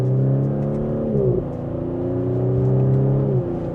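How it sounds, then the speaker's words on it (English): A 349 hp Audi SQ5 Prestige with sport exhaust in dynamic mode revs under light acceleration. The engine drone rises and shifts in pitch through gear changes, steady and close, with no talking. "we can give it a small acceleration and hear that sport exhaust"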